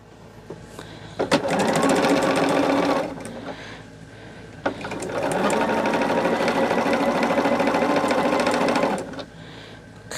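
A sewing machine stitches quilt patches together for a disappearing 4-patch block in two runs, a short burst of about two seconds and then a longer four-second stretch, near and steady with quiet pauses between.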